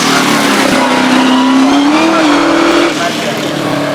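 Ex-John Fellow sprint car with a V8 engine climbing the Shelsley Walsh hill at a British Speed Hillclimb Championship event, its loud rising engine roar sustained, with a commentator talking over it.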